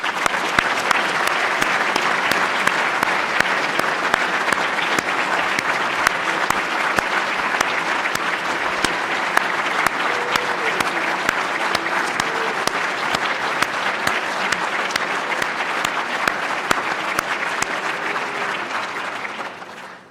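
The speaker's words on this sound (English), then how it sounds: "let's give this a round of applause for all these inductees" Steady, full-room applause from a seated audience at an induction ceremony, dense rapid clapping lasting throughout and fading only at the very end, with little talk.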